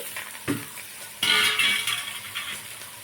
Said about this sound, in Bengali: কড়াইটা গরম হয়ে গেছে লাউটা দিয়ে দিচ্ছি